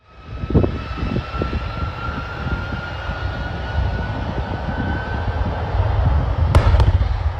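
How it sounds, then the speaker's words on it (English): An Airbus A330's right engine explodes during takeoff at Kaohsiung International Airport in Taiwan: a loud, steady jet roar with a cluster of sharp bangs early on, then a swelling roar and two hard cracks near the end. "the right engine of an Airbus A330 exploded during takeoff"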